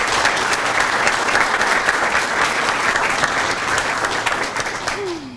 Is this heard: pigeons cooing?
no